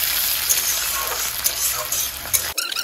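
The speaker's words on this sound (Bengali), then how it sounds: "আমি প্রথমে পেঁয়াজটা ভালো মতো ভেজে নেব" Onions fry in a pan for a home Sunday lunch, crackling loudly and steadily up close with stirring scrapes, then a brief clatter near the end; no one speaks.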